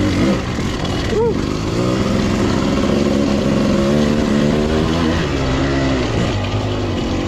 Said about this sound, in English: Jake's back on his Beta 300.